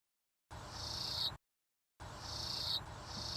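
A bird call recording played backwards sounds as two separate bursts split by silence, each a rising, shrill buzzing tone that swells and then cuts off abruptly, with nothing else audible.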